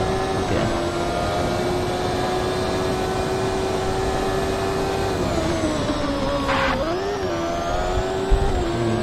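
A race car engine in the RaceCraft video game, holding a loud, steady whine throughout with a brief pitch dip and recovery near the end, as if shifting or easing off.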